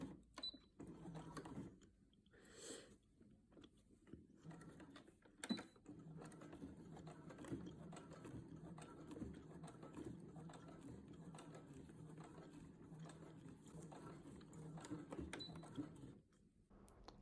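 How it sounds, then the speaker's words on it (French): A sewing machine runs steadily while stitching backstitches on a skirt, a continuous close mechanical whir with rapid needle ticks that carries on for most of the span before stopping near the end. "coudre avec des points arrière sur cette portion"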